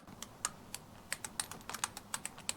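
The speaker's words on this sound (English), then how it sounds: "The reason that's clicking is inside this assembly here there's a little hole with that tiny little detent spring and ball" Small sharp clicks from a motorcycle fork cap rebound adjuster being turned through its ball-and-spring detents, a dozen or so light ticks at an uneven steady pace, close and quiet.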